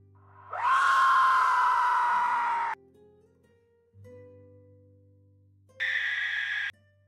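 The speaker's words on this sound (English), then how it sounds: "Reverberant scream." A reverberant scream sound effect: a long shrill wailing cry with a ringing tail, then after a pause a second shorter scream, heard alone over a low hum.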